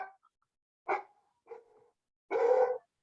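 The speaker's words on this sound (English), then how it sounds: "The dog agrees too." A pet dog barks four times in short, separate bursts over about three seconds, the last bark longest and loudest, heard indoors with quiet between barks.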